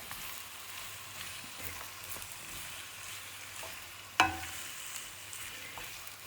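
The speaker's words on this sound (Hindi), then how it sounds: "शिमला की मिर्च भी जो सी है वो इसमें अब कुक होना स्टार्ट हो जाएगी।" Capsicum frying in a pan for chicken spring rolls gives a steady, close sizzle that runs the whole time, with light stirring scrapes and one sharp clatter partway through.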